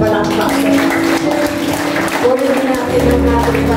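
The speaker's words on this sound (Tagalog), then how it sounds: "Muli, malakas na palakpak." Church congregation applauding loudly, a steady, close burst of clapping mixed with music and voices that holds for several seconds before thinning out.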